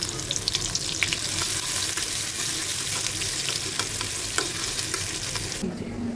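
Chopped onion with cloves, cardamom and cinnamon fries in hot soybean oil, a steady close crackling sizzle with scraping stirring sounds, and the sizzle drops off near the end.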